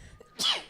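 A single sharp sneeze sounds close and loud, a brief burst after a short quiet breath.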